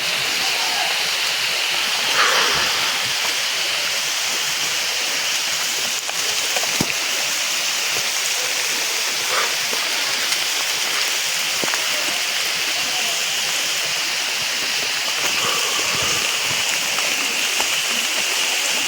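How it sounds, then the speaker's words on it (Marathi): Heavy monsoon rain roars steadily for a long stretch on a rocky trail to Barki waterfall, a constant wash of falling water with occasional faint drips and knocks. "खूपच पाऊस आहे"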